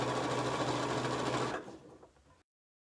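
A sewing machine stitches a hot water bottle cover with a steady, close, loud whirr for about a second and a half, then slows and winds down to a stop.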